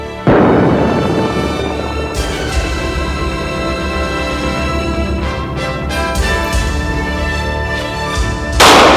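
A handgun fired during self-defense shooting practice gives a loud, close report at the start, then a long reverberant ringing decay with repeated sharper cracks and another shot near the end.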